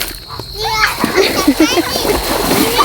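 Children splash and slosh in water during an outdoor bath after rice harvesting, with lively nearby splatters under chattering kids' voices and an adult talking.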